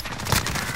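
Sniper gunfire in the video game Call of Duty Modern Warfare, a short loud burst of shot noise over busy game sound.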